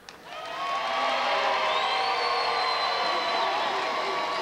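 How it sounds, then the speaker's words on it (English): A gym crowd at a charity basketball game breaks into a sustained roar of cheering and applause after a brief knock, swelling quickly and holding steady and loud throughout. "Okay, can we hear it now for Just Us?"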